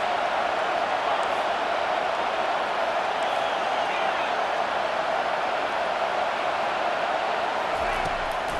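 Stadium crowd roar in the College Football 25 video game on a third-down defensive stand, a loud, steady wall of cheering noise with no breaks, swelling slightly, and faint talk mixed beneath it.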